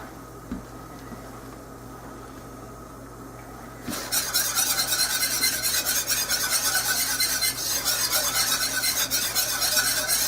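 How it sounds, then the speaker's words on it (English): Beef stew in a pot being stirred, with a steady scraping and bubbling that starts abruptly after a few seconds of quiet low hum and then continues close and loud to the end. "Let it bubble, stir it occasionally"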